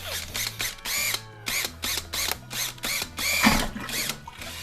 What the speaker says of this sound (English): while I get the power drill in